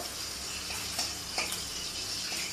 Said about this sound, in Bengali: এইভাবে একটু ভেজে নিচ্ছি শুকনো লঙ্কাটাকে।